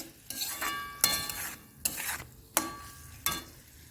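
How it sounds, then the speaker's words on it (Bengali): Chicken Schezwan fried rice stirred in a pan, with regular scraping strokes of a spatula about every three quarters of a second, each a sharp close scrape over a soft sizzle. "এবার খুব ভালোভাবে মিক্স করে নেবো।"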